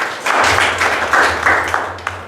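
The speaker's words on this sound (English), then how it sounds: "So let us give us a big round of applause." An audience claps at a Toastmasters meeting, a dense burst of applause lasting a couple of seconds, close and fairly loud with a low hum beneath.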